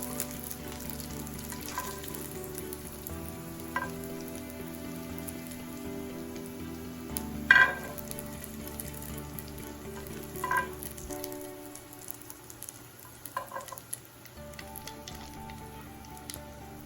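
Gnocchi sizzling in brown butter in a pan, a steady soft crackle with a couple of sharp clinks from handling, the sizzle quieting toward the end; no voices.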